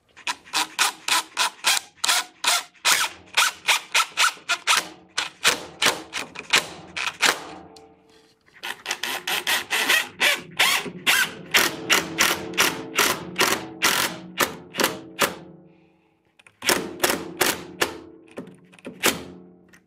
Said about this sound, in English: let's install the DensShield now. We're going to use our bugle head, coarse thread, sharp tip, corrosion resistant screw.